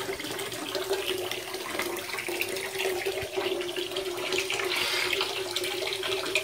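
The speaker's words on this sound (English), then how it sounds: "cold tap." Cold water pours steadily from a tap, a continuous close rushing splash with no talk.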